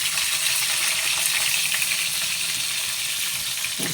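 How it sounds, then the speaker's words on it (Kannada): Sliced onion with curry leaves fries in a pan for a bamboo shoot curry, giving a steady, close, fairly loud hiss of sizzling that holds evenly throughout. "ಅದೆಲ್ಲ ಸ್ವಲ್ಪ ಬ್ರೌನ್ ಕಲರ್ ಬರೋ ತನಕ ಬಾಡಿಸ್ಕೊಳ್ಳೋಣ"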